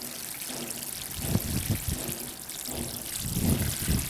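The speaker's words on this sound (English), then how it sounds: "it's time to water our pot." Water poured onto soil in a pot with newly planted iris, a splashing, trickling stream that comes in a few uneven bursts at close range.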